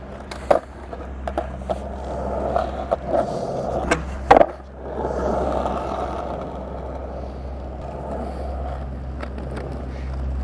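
A skateboard rolls along pavement with a steady low rumble, punctuated by several sharp clacks and thumps as the wheels hit a crack, the loudest jolt near the middle before smooth rolling resumes.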